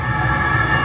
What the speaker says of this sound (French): Là j'entends juste la sirène.